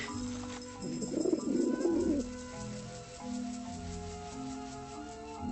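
Pigeons cooing in the game Grim Fandango Remastered, a soft burbling coo near the middle set over a steady game soundtrack, with no voices.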